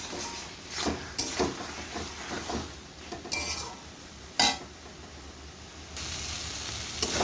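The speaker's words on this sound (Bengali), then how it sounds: "মাছগুলো দিয়ে একটু ভালো করে কষিয়ে নিই।" Fish pieces fry in spice paste in a pan and are stirred, with soft sizzling under intermittent scraping and clinking strokes of a utensil and bursts of louder sizzle, close by and without talk.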